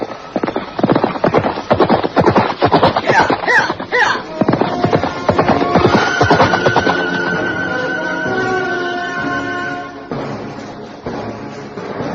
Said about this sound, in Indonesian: nampak pula seorang penunggang kuda tergesa-gesa memacu kudanya